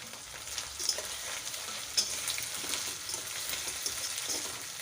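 Tomato and green chilli frying in oil in a pan, a steady close sizzle with occasional sharper crackles and a few stirring scrapes, no voices.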